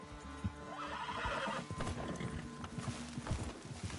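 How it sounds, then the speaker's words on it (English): A horse in Red Dead Redemption 2 lets out a loud whinny amid hoof clops and ambient game noise, the neigh prominent in the first half before fading into scattered hoofbeats. "Send your horse somewhere safe."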